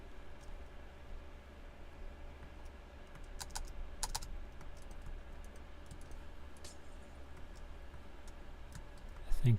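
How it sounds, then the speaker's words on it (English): Computer keyboard typing, a few sparse, sharp key clicks scattered over a quiet room hum, with a louder bump at the very end. "stupid keyboard."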